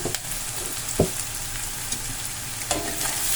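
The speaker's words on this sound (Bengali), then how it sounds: "আমি নাড়াচাড়া করে সমস্ত পেঁয়াজ কাঁচা লঙ্কা আর হলুদ গুঁড়ো নুন সমস্ত কিছু ভালো করে নাড়াচাড়া করে নিচ্ছি" Onions, green chillies, turmeric and salt get stirred in a frying pan over medium flame, a soft continuous sizzle broken by a few scraping knocks of the spoon against the pan.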